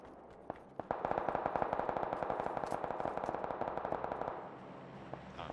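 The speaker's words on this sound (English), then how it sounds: "I'm just getting shot at by a bloody bot." Rapid automatic gunfire in the video game PUBG, one long burst of evenly spaced shots with a slight echo, preceded by a couple of single cracks and heard without talk.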